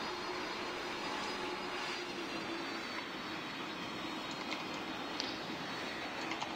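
An Antonov An-225 taking off in the PTFS flight game: a steady, loud roar of jet engines holding constant throughout the takeoff roll, with no voices heard.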